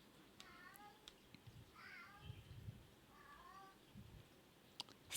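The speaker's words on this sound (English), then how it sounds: "That's my cat." A pet cat meows three or four times at close range, each call short and rising, over a faint room hum with occasional light clicks.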